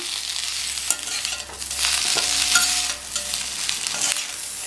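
Fried elephant foot yam being stirred in a pan after coriander leaves go in, a steady close sizzle under scraping spoon strokes throughout, with no one speaking.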